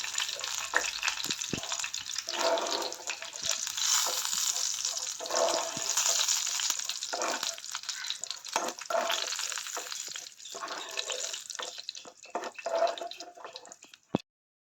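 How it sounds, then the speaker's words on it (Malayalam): Sliced bitter gourd frying in hot oil in a Kerala kitchen, a loud continuous sizzle with crackling pops and occasional stirring scrapes, close by and without talk, ending in a sudden cutoff. "നമ്മുടെ പാവയ്ക്കൊക്കെ ഇപ്പം നല്ലപോലെ ഫ്രൈ ആയിട്ടുണ്ട്."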